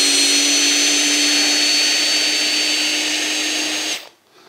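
A Festool C18 cordless drill driver on speed 1 with torque at 25 drives a screw into MDF without a pilot hole, giving a loud, steady motor whine for about four seconds that then stops abruptly into near silence.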